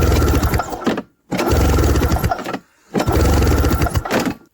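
A 1994 VX500 engine fires on starting fluid in three loud, close bursts of rough revving. Each burst lasts about a second and cuts out abruptly into silence.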